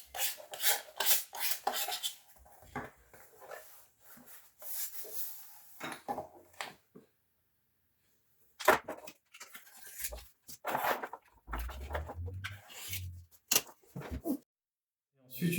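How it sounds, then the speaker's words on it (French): A plastic card scraped and rubbed repeatedly over a vinyl sticker on a Thrustmaster steering wheel to push out air bubbles, giving close, raspy strokes in bursts with pauses and some talking. "prendre une carte bleue ou une carte de fidélité en plastique pour pouvoir éviter d'avoir des bulles"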